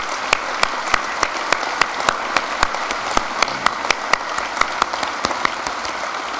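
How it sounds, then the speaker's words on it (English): Audience applause at a University of York winter graduation ceremony, a steady wash of many hands clapping in a hall with sharper individual claps popping through, continuous and fairly loud for the whole stretch. "will you actually join me in giving a round of applause to Anonymy?"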